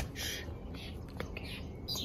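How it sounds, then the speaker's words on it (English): Birds call in repeated high chirps and squawks at a snorkeling spot on San Cristobal in the Galapagos, heard outdoors over a steady ambient wash, with a soft whisper. "Look, birds."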